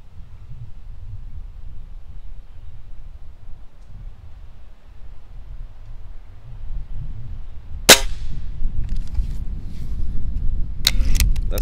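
A Crosman Fury air rifle fires a sharp snapping shot at steel targets, followed by faint metallic pings and a couple of quick later cracks, over steady outdoor background noise.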